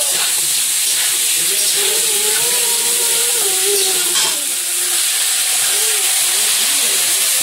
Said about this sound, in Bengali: একটু নুন হলুদ দিয়ে আলুগুলো ভেজে নেবো